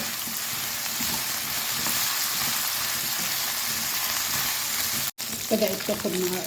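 Food fries in a pan over high heat, its added water cooked off as it starts to brown: a loud, steady, close sizzle that hisses without pause, broken by one brief dropout near the end.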